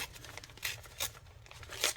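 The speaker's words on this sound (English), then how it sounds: "this paper tears so easily" Dictionary paper and collage paper being torn by hand for junk journal tag bases, a series of short crisp rips and crinkles at close range, with louder tears near the middle and end.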